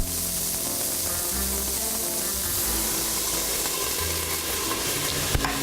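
Pork chops browning in a hot pan give off a steady, close sizzle and crackle that holds at an even level throughout, with a light tap of the pan or utensil near the end.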